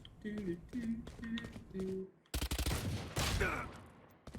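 Phantom rifle gunfire in a competitive first-person shooter game, with quick bursts of shots and gameplay effects behind people talking.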